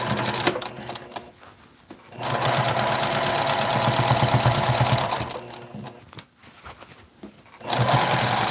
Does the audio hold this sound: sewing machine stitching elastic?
yes